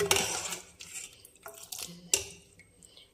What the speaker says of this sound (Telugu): ఇది ఇలాగా గరిటతో కలుపు గరిటతో బాగా కలుపుకొని